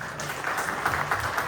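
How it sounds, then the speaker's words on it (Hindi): Audience applause for a poetry reciter at a ghazal and poetry gathering, a steady wash of clapping at moderate distance held for a second and a half, with no one speaking over it. "हम सब लोग मिलकर इंशाअल्लाह इनके लिए ताली हो जाते हैं एक मरतबा"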